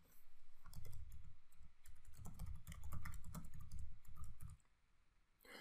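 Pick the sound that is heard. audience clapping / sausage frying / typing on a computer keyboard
typing on a computer keyboard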